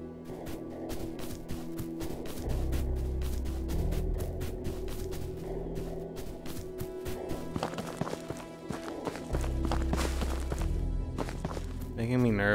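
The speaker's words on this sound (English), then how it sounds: "I definitely heard footsteps." Footsteps in the video game Ghosts of Tabor: a rapid run of soft, repeated steps thuds steadily across the scene, with game ambience underneath and a few brief clicks near the end.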